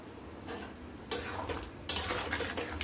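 A spoon stirs chela fish curry in a pan, producing close clinks and scrapes against the metal that grow louder in two bursts over a faint background sizzle.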